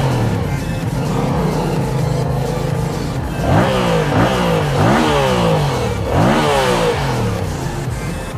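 A Yamaha MT-07 motorcycle engine revs hard several times in succession, loud rising and falling blips close to the microphone over a steady idle, with wind in the background.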